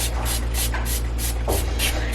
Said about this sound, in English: I'm gonna spray the butter on mine